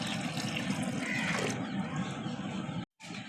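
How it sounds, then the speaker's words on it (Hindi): Water poured into a cooking pot set over a fire to make fish stock, a steady splashing rush that runs close and continuous before cutting off briefly near the end. "पानी शामिल कर लेंगे।"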